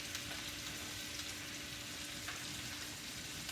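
Shrimp, unpeeled but deveined, hits melted butter in a pan and sizzles steadily, a faint, even hiss of frying that holds unchanged throughout without any talk.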